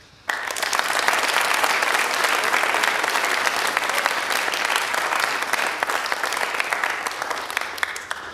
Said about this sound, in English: let me give them all another brief round of applause